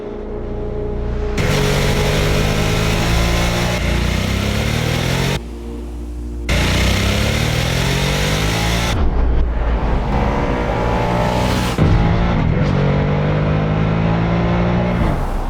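A Harley-Davidson Nightster motorcycle engine revs loudly and up close, swelling and falling through several throttle blips over a steady running rumble, with a brief drop in level partway through. No one speaks.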